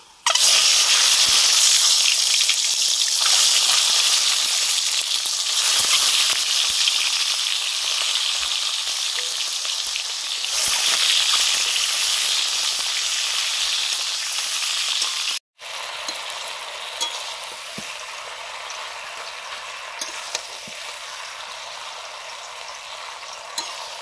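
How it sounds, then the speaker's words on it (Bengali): Eggs from country hens fry in mustard oil in a kadai with a loud, continuous sizzling hiss, a short cut partway through, then a slightly quieter sizzle with occasional spatters. "কড়াইতে সর্ষের তেল দিয়ে দিয়েছি।"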